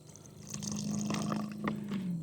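Water glugs from a refilled 16.9-ounce plastic bottle into a soil infiltration test ring, a steady close pour lasting a couple of seconds with a soft gurgle and splash, with no talking.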